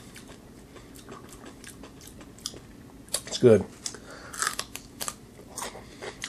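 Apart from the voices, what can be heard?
chewing crunchy fermented celery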